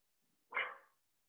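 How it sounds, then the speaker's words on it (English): A single short dog bark, fairly faint and a little distant, in otherwise quiet surroundings. "there goes my dog, she's barking"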